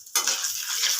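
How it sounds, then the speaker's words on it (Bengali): Nigella (kalonji) seeds hit hot oil used after frying eggplant and burst into a sudden, close, bright sizzle that holds steady for about a second. "কালো জিরে ফোড়ন"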